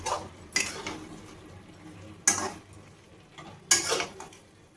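A potol, potato and prawn curry being stirred in a pot, a handful of scraping, clinking strokes of a spoon against metal spaced across a few seconds, no speech.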